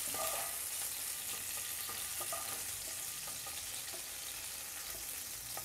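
Green chillies frying in hot oil give a steady, dense sizzle with faint crackles throughout, no voices present.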